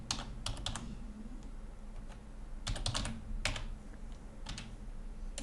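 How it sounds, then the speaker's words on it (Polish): Typing a command on a computer keyboard, quiet scattered clicks of individual keystrokes in short bursts with pauses between, close to the microphone and with no talking. "W tym celu wpisuję komendę Surf Tab 1,"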